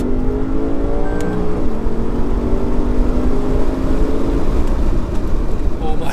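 A Lexus RC F's engine drones steadily and loudly from inside the cabin, its tone rising and falling with throttle at high RPM, heavy low rumble throughout and brief speech over it.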